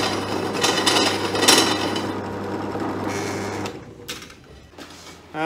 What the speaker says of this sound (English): just woggle it around gently with the step drill moving